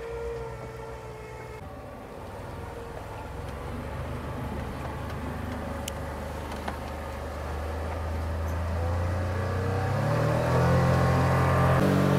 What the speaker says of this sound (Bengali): এবার আমাদের বোট ছাড়ছে